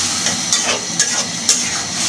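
Hilsa fish head being sautéed and stirred in a pan, a steady frying hiss with three sharp utensil scrapes spaced evenly, close and moderately loud with no talking.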